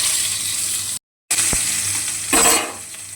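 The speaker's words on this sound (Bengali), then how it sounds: "করে নিয়ে ওই তেলের মধ্যে দিয়ে দেবো কালো জিরে, তারপরে কুচিয়ে রাখা টমেটো আর কাঁচা লঙ্কা দিয়ে দেবো" Black cumin, chopped tomato and green chilli sizzling in hot fish oil in a pan for a bok fish mustard curry, a loud steady crackle broken by a brief silent gap, a single clack, and a louder sizzling surge near the end.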